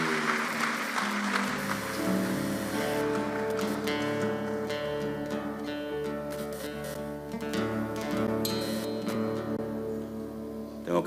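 A church congregation claps steadily and loudly throughout a service, with cheering voices and some musical tones mixed in underneath.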